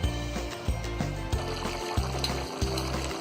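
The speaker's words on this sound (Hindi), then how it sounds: "पानी में उबाल आने लगा है" Water boils in a pot of soya pulao on a gas stove, a steady rolling bubble with a regular low pulse repeating about every half second, close and fairly quiet.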